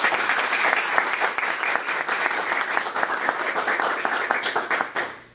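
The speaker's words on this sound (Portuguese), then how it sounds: "Só uma salva de palmas pro Jeff" Dense applause from an audience at a masterclass on optimizing one's game, honoring the presenter Jeff; steady, loud clapping fills the whole stretch and fades out at the end.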